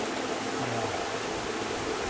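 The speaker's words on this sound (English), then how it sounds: "I love the wind, the sound of water." Steady broadband rushing of flowing water blended with wind, constant and close, with no voices.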